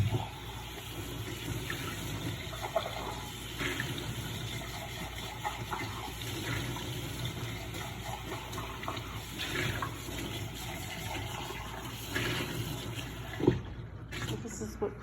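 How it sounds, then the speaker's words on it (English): Running tap water streams steadily over a small rosemary Christmas tree being rinsed in a sink, a continuous gushing wash with faint handling clunks and a voice talking over it. "Give it a rinse."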